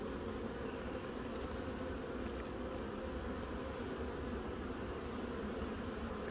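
Honey bees buzz around an open hive during an inspection, a dense, continuous drone of many insects at close range, fairly soft and steady with no voices.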